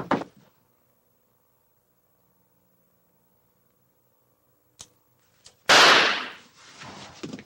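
Gunshots in a Brazilian film scene: one sharp report at the start, quiet, two faint clicks, then a loud blast with a ringing tail.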